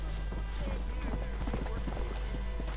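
Horse hooves clip-clop at a steady trotting rhythm in the video game Red Dead Redemption, loud and close over a constant low game ambience, with a voice talking briefly over it.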